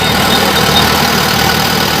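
A tractor engine runs steadily nearby in a village, a loud, continuous low rumble with no voices over it.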